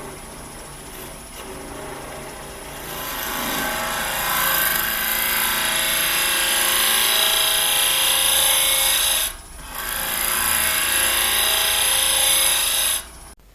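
Carbide woodturning tool cutting a spinning wooden goblet on a lathe, a loud continuous rasping scrape that swells as the cut deepens, drops out briefly, resumes, then stops abruptly.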